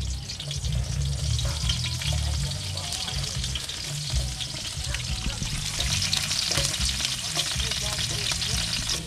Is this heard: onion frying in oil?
yes